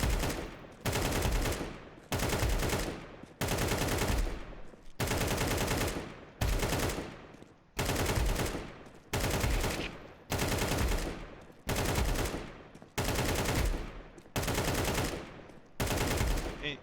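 Long rifle bursts from an AK in Counter-Strike 2, about a dozen sustained sprays each lasting roughly a second, separated by short pauses, loud and close with no talking.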